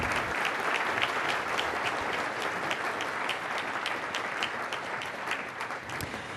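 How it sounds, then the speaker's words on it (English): A conference audience at a Chamber of Commerce healthcare awards event claps loudly and continuously, a dense wash of hand claps that holds steady and then fades slightly near the end. No voices are heard. "Please give a huge round of applause to Wendy Nebreha, our 2014 Adult Volunteer Award winner."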